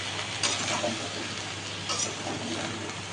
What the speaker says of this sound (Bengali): এখন কিন্তু আজকে একটু কষিয়ে নিলাম, ময় মশলা দিয়ে